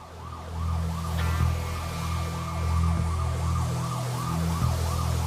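Ambulance siren wailing in a steady repeating rise-and-fall pattern, loud and continuous against low traffic rumble, with a brief higher tone joining partway through; no voices.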